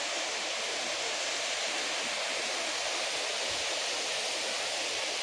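Tatiguda waterfalls pour in a steady, dense roar of rushing water, an unbroken broadband wash that holds constant without pauses or voices.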